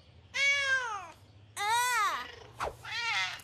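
A cat meows three times in close succession, each call a drawn-out, wavering cry that rises and falls, loud and near, with a low hum running underneath.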